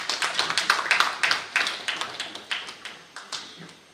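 Scattered clapping from a small conference audience on a new constitution in The Gambia, a loose run of separate, fairly close claps that thins out over about four seconds.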